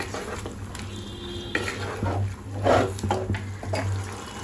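Chicken is stirred with sesame, poppy seed, ginger and green chili paste in a metal pan, giving soft scraping and clinking strokes in irregular bursts, fairly close and moderately quiet.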